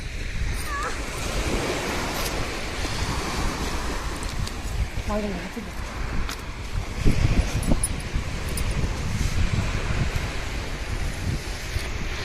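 Continuous surf washes against a beach with gusting wind on the microphone, and faint indistinct voices in the background.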